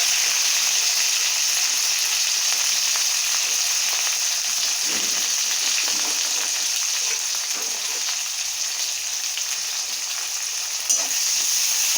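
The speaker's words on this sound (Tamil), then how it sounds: "வெங்காயம் போட்டு நல்லா வதக்கிக்கலாம்" Onions with curry leaves and green chillies sizzle steadily in hot oil in a pan for a South Indian fish curry, a continuous loud frying hiss with faint stirring scrapes and no talk.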